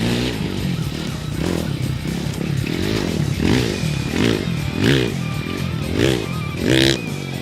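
A dirt bike engine revs and surges in repeated rhythmic bursts while riding through sand at a dirt bike playground in Pattaya, loud and close throughout.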